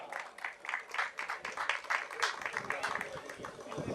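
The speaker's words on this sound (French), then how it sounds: "On peut bien l'applaudir." Applause rises from the audience at the LiegItalia 2015 event in Liège, a brisk, uneven patter of hand claps that swells and thins, with a voice speaking over it now and then.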